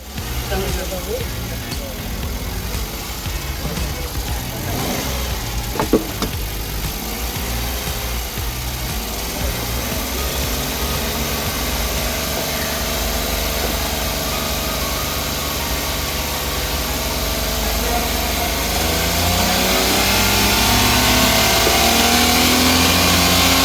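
A car engine runs steadily during an inspection of a made-to-order build in Bulacan, a constant droning idle that swells slightly toward the end, with speech over it.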